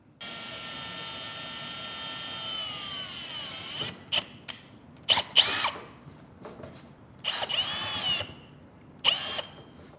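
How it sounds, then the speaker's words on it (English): Power drill boring a stress-relief hole in the fiberglass cab roof of a John Deere 3520 tractor, with a steady whining run for about four seconds, then several short loud bursts separated by pauses. "we're going to take a drill and we're going to produce a stress relief here"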